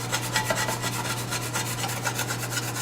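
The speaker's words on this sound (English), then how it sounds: "So I'm going to get a wooden spatula." A wooden spatula scrapes caramelized lamb fond from the bottom of a pan in quick, rhythmic rubbing strokes, close and fairly quiet, with a steady background hum.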